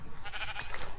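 A sheep bleats in Minecraft, a short wavering game sound effect heard close and moderately loud over a steady background of game noise.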